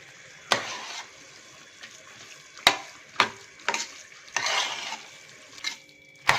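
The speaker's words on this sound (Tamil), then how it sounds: "இந்த சாம்பாரை இந்த சாதத்தில் ஆட் பண்ணி மிக்ஸ் பண்ணிக்கலாம்" Sambar is stirred into cooked rice in a pot, giving several sharp spoon scrapes and knocks against metal between soft, wet mixing sounds, close and intermittent, with no talk.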